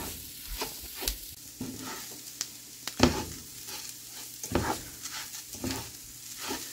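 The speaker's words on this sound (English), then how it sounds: "Stir stir constantly." Rice being stirred while it fries in a pan for a Greek dinner, with a steady close sizzle broken by repeated scraping strokes of the spoon, heard alone without talk.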